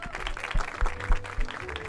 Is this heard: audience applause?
yes